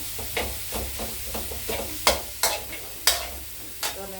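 Pork for larb is stir-fried in a wok with a little water, a continuous sizzle broken by rhythmic scraping strokes of a spatula against the pan, several louder clacks standing out near the end.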